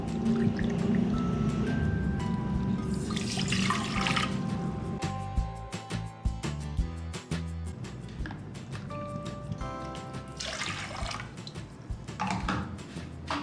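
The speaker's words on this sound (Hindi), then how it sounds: "डेढ़ कप पानी डालें" Water is poured into a cooking pot for an oats breakfast, a steady pouring and filling sound with drips and clinks, alone and fairly close.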